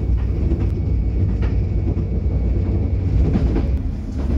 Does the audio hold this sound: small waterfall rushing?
no